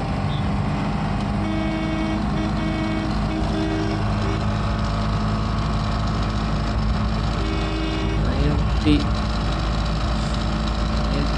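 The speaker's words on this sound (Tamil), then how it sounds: "இந்த கார் இத்தனை வருஷம் கழிச்சும் இந்த ஸ்பீட் லெவல் வரைக்கும் போகும்போது அவ்வளோ ஸ்மூத்தாக இருக்குது" An Ambassador car cruising at high speed, its engine a steady drone with road and wind rumble, heard from inside the cabin without talk.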